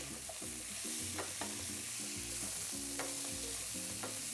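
Chopped green pepper sizzles steadily in a hot pan alongside shrimp, with a constant frying hiss and intermittent stirring scrapes and clinks throughout.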